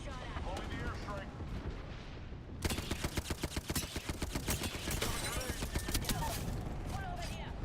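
Dense, rapid bursts of automatic gunfire and explosions in the battle royale video game Apex Legends, loud and continuous with sharp repeated shots, heard under a game announcer's voice and other game sounds.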